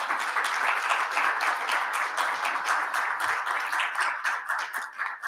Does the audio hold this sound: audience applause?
yes